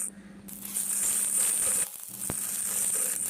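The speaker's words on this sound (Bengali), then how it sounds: "পেঁয়াজ হালকা ভাজা হলে ওর মধ্যে দিয়ে দিলাম রসুন কুচি। সব আবার মিনিট খানেক ভেজে নিলাম।" Chopped garlic sizzles in hot oil with lightly fried onion in a pan while preparing a fish-egg bhuna, a steady bright hiss with a brief metallic clink partway through.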